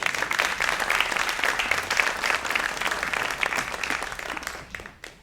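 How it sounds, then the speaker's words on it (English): An audience at a live music show claps warmly, a dense patter of many hands that holds steady and then thins and dies away near the end. "Yes, clap it up."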